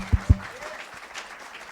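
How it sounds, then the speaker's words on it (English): An audience gives a brief round of applause for daredevil Mad Mike Hughes; two close thumps open a short, fairly faint spread of clapping from the crowd. "let's have one more round of applause for Mad Mike Hughes"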